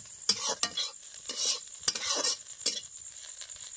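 Pahadi karil bhujia vegetables stir-fried with spices in a pan over a home cooking fire: repeated scraping stir strokes cut through a steady close sizzle, with no talk.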